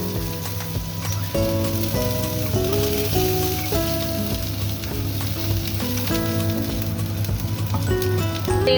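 Garlic and ginger sizzle in hot oil in a pan, a steady crackling fry that continues throughout beneath background music.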